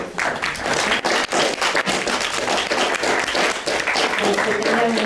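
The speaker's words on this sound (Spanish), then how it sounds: "Le damos un fuerte aplauso al maestro Joel por su participación." An audience at a seminar session applauds, a dense, loud wash of many hands clapping steadily and close throughout, with a voice speaking faintly beneath it.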